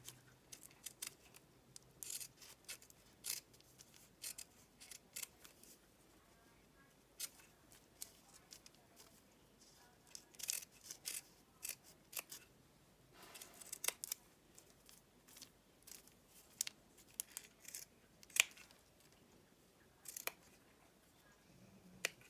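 Scissors snip paper repeatedly at an uneven pace, crisp and close, with quiet pauses between bursts of cuts.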